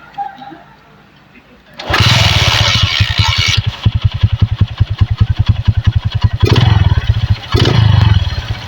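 A motorcycle engine, its carburetor just tuned on an M.Pro bike that had been misfiring, starts up loud and close, revs in strong bursts, then settles into a fast, rapidly pulsing idle before revving hard twice more.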